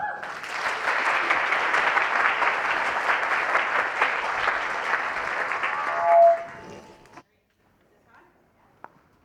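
Audience applause at an evening engineering talk event, steady sustained clapping for several seconds that fades and stops, followed by near silence.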